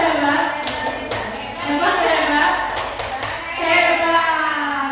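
Rhythmic group clapping from an audience of educators at a school counseling workshop in Indonesia, with voices chanting along in a cheer over the patter of hands.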